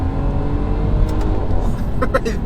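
A stage 1 tuned 2018 BMW M140i accelerates hard while driving, its engine roaring steadily and loud throughout, with brief sharper bursts near the end as gears change.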